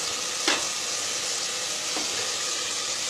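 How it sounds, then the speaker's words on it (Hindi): Meat fries with spices and ginger garlic paste in a pan, making a loud, continuous sizzle with two brief scraping strokes of stirring. "ये तमाम चीज़ें डालने के बाद मैं इसको आधे मिनट तक भूनूं"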